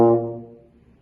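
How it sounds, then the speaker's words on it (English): A euphonium sounds a single low, warm, rich note that starts strongly and fades away within about a second. The instrument plays alone with no other sounds. "Another instrument in the brass family is the euphonium."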